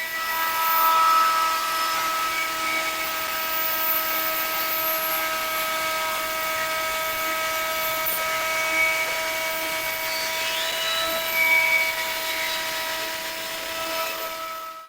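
A router spins and cuts wood for a hybrid picture frame, a steady high-pitched whine holding throughout with slight changes in pitch as it bites into the workpiece.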